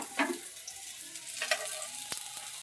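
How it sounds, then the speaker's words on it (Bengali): Lentil fritters (dal bora) mixed with onion and salt fry in hot oil, giving a steady soft sizzle with a few brief crackles and scrapes, alone and fairly faint. "পেঁয়াজ লবণ দিয়ে ডালের বড়া ছাড়িয়ে দিলাম তেলে"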